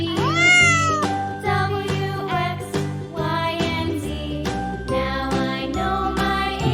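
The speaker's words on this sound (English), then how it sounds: "Nice cat." A cat meows repeatedly over bright, jingling background music, each meow rising clearly above the tinkling tune.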